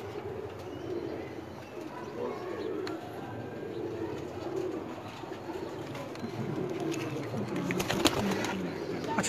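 Pigeons in a loft at Lilyani coo softly and repeatedly over a low background hum, with a few brighter chirps and rustles near the end; no one speaks.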